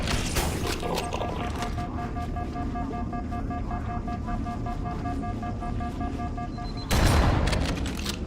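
Shotgun and pistol fire aimed at Flood combat and carrier forms in Halo Anniversary, on the Library mission: a continuous rattle of rapid gunfire over a droning background, ending in a louder, heavier burst near the close.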